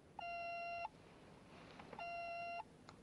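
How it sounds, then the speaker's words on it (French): Two steady electronic beeps from a central dispatch call signal, each lasting under a second with a pause between, clear over faint background hiss. "C'est un appel du central?"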